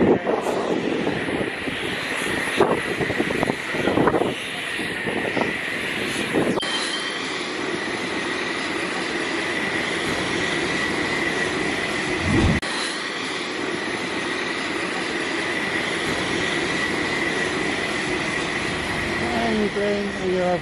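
ATR 72-600 turboprop airliner taking off, heard from inside the cabin as a loud, steady engine roar with a sustained high propeller whine, preceded by some clattering and brief voices early on.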